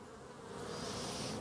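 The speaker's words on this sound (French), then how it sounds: "Donc je vous montre un petit peu les abeilles." Honeybees buzz inside an open hive at the end of the season, a continuous dense hum that grows slightly louder and stays steady, with no voices.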